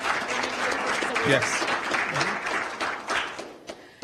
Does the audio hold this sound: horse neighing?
no